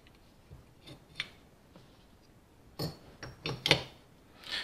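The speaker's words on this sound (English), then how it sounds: "So the rattling sound that you will hear is this clicking noise." Faint, irregular metallic clicks and light rattles from worn Mercedes M156/M159 camshaft adjusters come in small clusters, quiet and close, with no voices.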